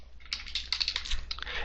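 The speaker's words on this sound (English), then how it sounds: "I can start typing out whatever I want." Quick clatter of fingers typing on a computer keyboard, a close, uneven run of light key clicks with short pauses between bursts and no speech.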